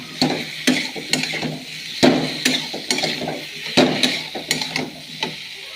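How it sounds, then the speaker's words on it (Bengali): Fried vegetables are sautéed with spices in a pan for vegetarian Gobindobhog rice khichuri. A spatula scrapes and knocks against the metal in a brisk, repeated rhythm, loud and close, with a light sizzle underneath. "এই দেখো সবজিটা একটু মশলার সাথে ভালো করে কষিয়ে নেব"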